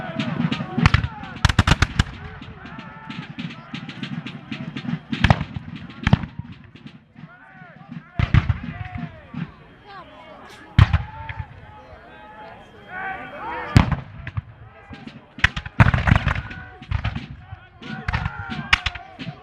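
Cannon fire in a Fort George battle video game, with repeated loud booming blasts scattered irregularly through a din of battle noise while someone narrates over it.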